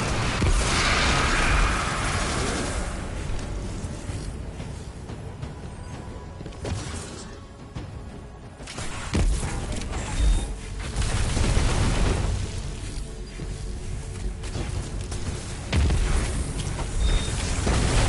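Grenades go off in Destiny 2 as a run of deep booms and rumbling blasts, loud and close, with brief lulls between rolling bursts.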